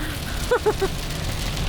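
Rain coming down under blue skies onto a car, a soft, steady hiss of drops that runs throughout, with a few brief tonal blips near the middle.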